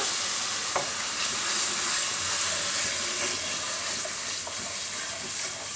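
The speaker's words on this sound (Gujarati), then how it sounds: "એકદમ ધીમો ગેસ કરી દેવાનો અને આ રીતે હલાવતા રહેવાનું" Yogurt mixture being stirred in a pan over very low gas, a steady soft sizzle with faint scraping strokes of the spoon running throughout.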